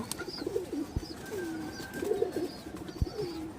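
A pet pigeon gives several soft, rolling coos in repeated phrases, heard close, with a couple of sharp taps or clicks between them and quiet room noise behind.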